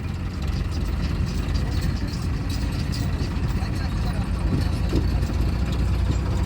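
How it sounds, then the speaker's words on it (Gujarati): A tractor engine runs at a steady, low idle, its heavy rumble continuous throughout, with faint voices in the background. "શિવાંગ ટ્રેક્ટર શીખે"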